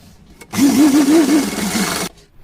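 Sewing machine stitching a cotton outfit for a Laddu Gopal idol, one steady run of rapid mechanical whirring about a second and a half long, close and clear, starting and stopping abruptly with no talk.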